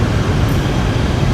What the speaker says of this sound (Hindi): और यहाँ पे आप देख सकते हो नीचे एक ट्रेन आ चुकी है। ये देखिए ये है लोकल ट्रेन